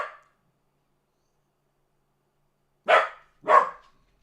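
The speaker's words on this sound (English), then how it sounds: "stop with the barking." A dog barks three times, one short bark at the start and two sharp barks in quick succession after a silent gap, loud and close.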